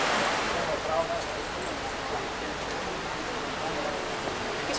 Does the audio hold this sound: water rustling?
yes